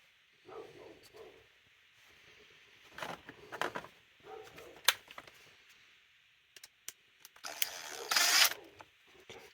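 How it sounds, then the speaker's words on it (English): Screws being driven into the plastic instrument cluster of a 1992 Dodge D150 pickup, heard as sparse, close clicks and ratcheting rattles in short bursts, with quiet pauses between them. "Let me put these screws in first here real quick"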